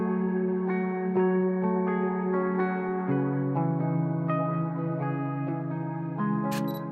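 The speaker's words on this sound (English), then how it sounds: "So now when we have the effects on, the guitar sounds like this." Ambient electric guitar playing sustained harmonic chords through echo, tape saturation and effects, with a warm low drone, smeared reverberant tails and a brief bright high shimmer near the end, continuous and fairly loud with no talk.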